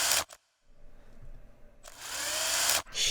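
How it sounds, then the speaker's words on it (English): A power drill whirs in two loud bursts used as sound-design material for an animated fight, a short burst first, then a brief pause and a quieter hum before a longer, steady high-pitched spin. "Let's take some part of our drill sound."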